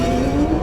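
A Ferrari 488 Pista supercar racing against rivals, its engine droning steadily and loud with a sustained tonal note throughout, close up, with no talk.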